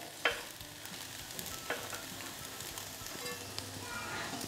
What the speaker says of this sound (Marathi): अजून एखाद दुसरा मिनिट मी हे परतून घेते.